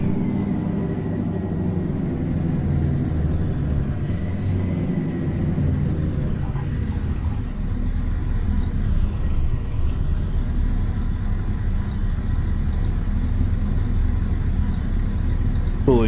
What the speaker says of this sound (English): Here's the engine brake.